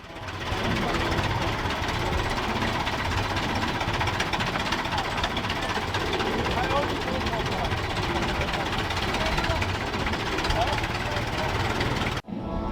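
Vintage 1903 Mercedes racing car engine running at a historic motor-racing meeting, a loud, steady, rough rumble that holds continuously and close by before cutting off abruptly near the end.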